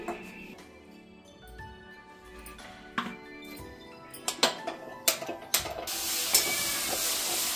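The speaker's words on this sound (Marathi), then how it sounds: "आता यामध्ये ना तेलात मिरची टाकते मी" Green chilies drop into hot oil in a kadhai, sizzling, with scattered clinks and scrapes, the hiss swelling louder toward the end.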